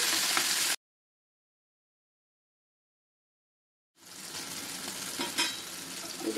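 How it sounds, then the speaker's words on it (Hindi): Thin marinated chicken pieces grill on a high flame, a bright hissing sizzle that cuts off abruptly, leaves a few seconds of complete silence, then returns with faint stirring clatter. "मैंने इसे हाई फ्लेम पर ही ग्रिल कर रही हूँ"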